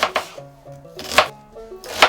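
An onion is chopped with a knife on a cutting board, giving three or four sharp, close thuds spaced about a second apart with a quieter thump between them.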